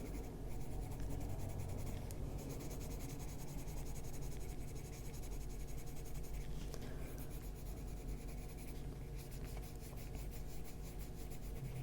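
Colored pencil scratching steadily across a page of an adult coloring book, a soft, continuous close rubbing with brief pauses between strokes.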